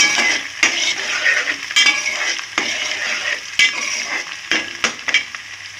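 Onions and coriander stems being stirred in a hot pan for a mutton curry, with a steady sizzle under repeated scraping and clinking strokes of a spoon against the metal, close and alone.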